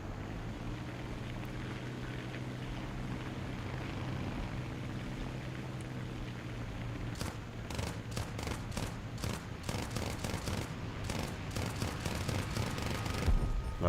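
Gunfire in Titanfall 2: a steady engine-like hum at first, then repeated sharp shots in irregular bursts over the drone during the second half.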